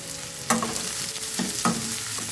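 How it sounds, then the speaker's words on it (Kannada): Chopped onions fry and are stirred in a pan after garlic, giving a steady close sizzle with a few louder scraping stirs and no talk. "ಈರುಳ್ಳಿನ ಸ್ವಲ್ಪ ಕೆಂಪಾಗಬೇಕು ಹಸಿ ವಾಸನೆ ಹೋಗಿ ಅಲ್ಲಿ ತನಕ ಫ್ರೈ ಮಾಡ್ಕೊಬೇಕು"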